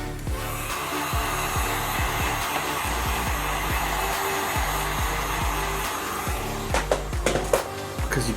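A heat gun blows a steady, loud whooshing drone while warming vinyl wrap on a Chevrolet Silverado door handle, with a faint rhythmic ticking underneath and a few scrapes near the end.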